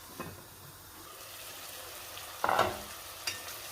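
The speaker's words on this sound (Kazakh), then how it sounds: "Бір рет жақсылап араластырып жіберемін." Carrots and meat fry in a pot for pilaf with a low steady sizzle, broken by a loud scraping stir near the middle and a short clatter afterward.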